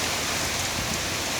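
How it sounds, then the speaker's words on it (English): Wind-driven rain from Hurricane Dorian near Halifax, Nova Scotia, pours in a dense, steady hiss that fills the whole stretch without pause or voices. "When the rain comes, it blows like this."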